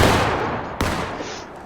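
Musket volley in the War of Rights video game: a loud crack of massed fire, then a second sharp report about a second later, with rolling gunfire echoes trailing off.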